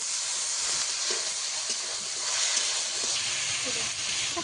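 Water poured into a hot pan of bitter gourd curry sets off a broad, continuous hiss and sizzle of steam, fairly even and close, with faint stirring knocks underneath.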